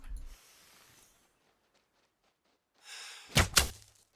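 A recurve bow shot at a mule deer in the hunting game Call of the Wild: a sharp thunking release and impact near 3.4 seconds, two close loud hits after quiet ambience, with no talk.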